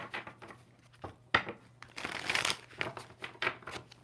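Tarot cards shuffled close up in a quiet room, a run of soft riffling bursts and papery flutters with short pauses between, one longer riffle near the middle.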